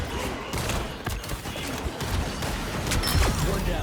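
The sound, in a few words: gunfire in the video game Marvel Rivals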